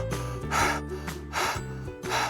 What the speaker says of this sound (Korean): 제 숨소리가 들리실 텐데요.